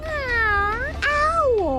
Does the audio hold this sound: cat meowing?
yes